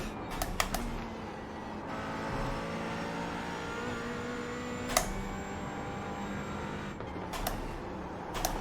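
A McLaren GT4 race car in iRacing drones steadily at high revs, a continuous whining engine note with slight pitch shifts and a few brief clicks, moderately quiet throughout.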